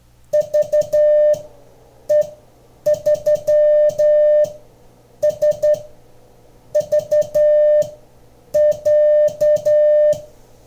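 A VE3 amateur radio call sign sent in CW Morse code beeps in a steady single tone, keyed in quick groups of short dits and longer dahs, repeating several times with brief pauses between.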